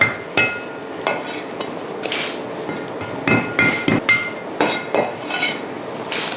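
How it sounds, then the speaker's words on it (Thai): Garlic cloves crushed with hard knocks for soy-braised stewed chicken feet, a series of sharp, loud thuds in irregular clusters against a low kitchen background. "แล้วก็ตามด้วยกระเทียมค่ะทุบแค่พอแตกนะคะ"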